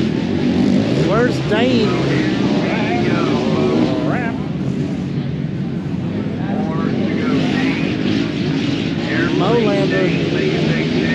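ATVs roar past at the Briarcliff ATV national race, a sustained loud engine drone with rising and falling whines as machines pass, under continuous talk from nearby spectators.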